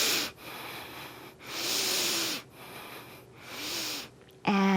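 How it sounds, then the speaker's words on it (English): Deep breathing during a seated chair yoga stretch: slow, airy inhales and exhales in long swells, close and moderately loud, with a brief voiced sound at the end. "Inhale deeply."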